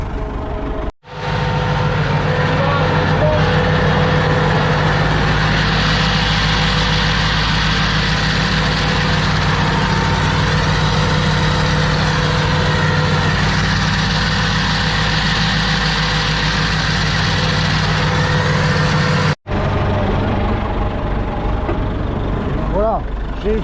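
Massey Ferguson MF168 tractor engine running at a steady idle in a rainy hay field, a loud, close diesel drone with a low throbbing hum, cutting out briefly twice; speech is faint or absent.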